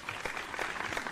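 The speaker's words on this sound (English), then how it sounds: "They're clapping." Studio audience applause at a gaming talk show, a steady, even wash of many hands clapping at moderate distance with no clear breaks.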